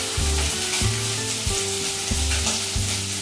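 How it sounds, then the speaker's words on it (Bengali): Mustard greens frying in a pan for a pork and bamboo shoot dish give off a loud, constant hiss. Rhythmic low thumps and hums from stirring the pan run under it, with no speech. "অকণমান লাই ভাজি লওঁ"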